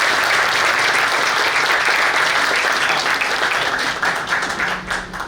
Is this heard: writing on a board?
no